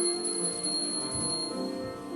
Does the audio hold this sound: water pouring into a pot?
no